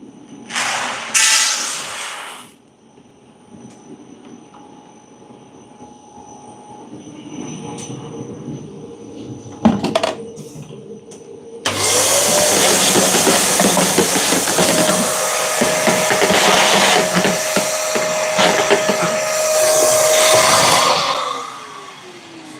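Coffee roasting machine heated to 175 degrees Celsius running loud with a steady whooshing, hissing roar, preceded by quieter mechanical rumble and clatter as green beans go in.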